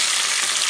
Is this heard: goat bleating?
no